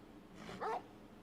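A faint, brief single dog bark from the video game Final Fantasy XVI, a short yip over a low, steady game background.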